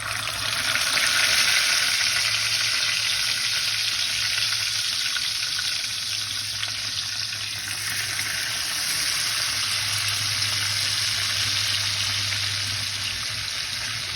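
Fish sizzles in hot oil for a dish made with bottle gourd leaves, a loud, continuous, close frying hiss that holds steady throughout with no talking.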